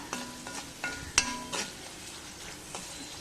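Gooseberry pickle ingredients are mixed in oil in a pan, with a few spaced metallic clinks and scrapes of the spoon over a light background hiss.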